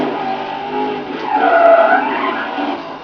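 In Need for Speed Undercover, a car drifts with steady engine drone and a loud tire squeal that swells midway. The skid runs about three seconds and is heard without voices.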